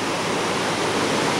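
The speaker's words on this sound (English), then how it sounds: "You see the river's pretty rough." Rough, rushing river heard from a bridge, a loud, dense and steady roar of churning water with no pauses.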